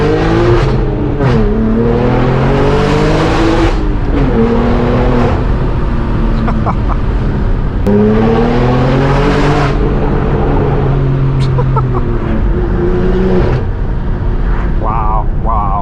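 A McLaren sports car engine revs and roars past at close range, rising and falling in pitch repeatedly, with people talking over the noise.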